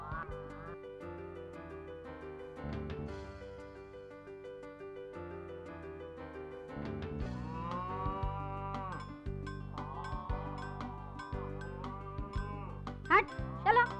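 Cows and buffaloes moo in long, drawn-out calls during a stage puppet show, one after another, with faint bell jingles, a sharper call near the end, and a steady backdrop.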